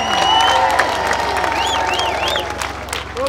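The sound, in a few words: church congregation applauding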